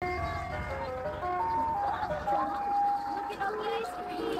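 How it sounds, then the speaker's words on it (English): An ice cream truck plays its tinkling, looping jingle continuously beneath a steady background hum. Voices are faintly mixed in. "You want an ice cream truck?"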